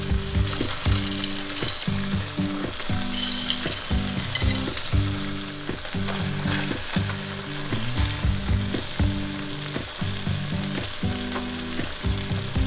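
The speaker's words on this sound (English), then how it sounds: "We're just going to stir this in and let the cheese just start to melt" Bacon and cheese are stirred into a hot, bubbling beer cheese mixture, with close sizzling and stirring over rhythmic background music.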